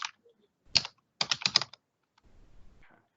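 Short bursts of keystrokes on a computer keyboard, a single tap followed by a quick cluster of clacks and a softer rattle, close and clear against near silence.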